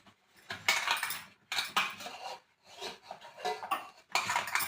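Jowar flour dough being mixed and kneaded by hand in a bowl for jonna rotte, with several bursts of close, gritty rubbing and scraping separated by short pauses.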